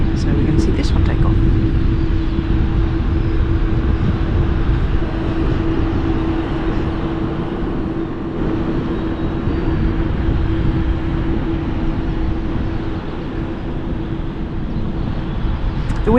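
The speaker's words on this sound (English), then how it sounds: "it's heading to the end of the runway, so we're going to see this one take off" A British Airways passenger plane takes off at London City Airport, its engines a loud, steady roar with a low hum that holds throughout and eases slightly midway.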